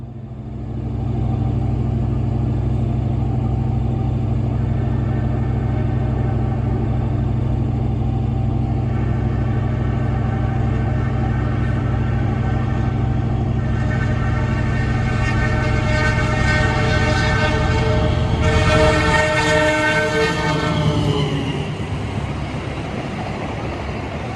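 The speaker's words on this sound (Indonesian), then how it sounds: "Kita tunggu kereta api Bima untuk segera melintas di stasiun Wali Kukun" The Bima passenger train runs past Walikukun station at night, a loud sustained rumble of wheels and carriages building in intensity and brightening into screeching metallic tones near the end.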